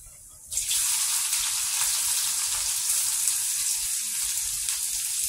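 Onions dropped into hot oil for a brinjal curry: after a brief quieter moment a loud, close, hissing sizzle bursts in and holds steady and dense to the end, with no talking.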